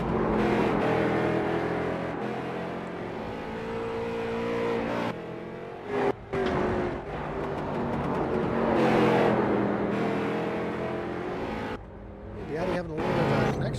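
Street stock race car engines in an iRacing sim race at South Boston Speedway, a steady loud drone with revving and cars passing, running under continuous race commentary.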